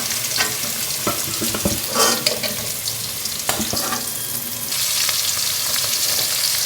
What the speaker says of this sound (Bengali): তেলের মধ্যে প্রথমেই আলু ভেজে নিতে হবে